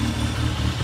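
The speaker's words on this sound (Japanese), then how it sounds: "吸気音やばっ。" Toyota AE86 Trueno engine with individual throttle bodies and a high-lift cam, running close by in a steady, throaty intake roar with a low rumbling pulse throughout.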